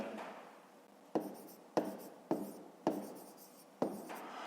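Pen strokes scratch across paper during a fifth-grade math exercise, five distinct bursts of writing, each starting sharply and trailing off, close and fairly quiet with no talking.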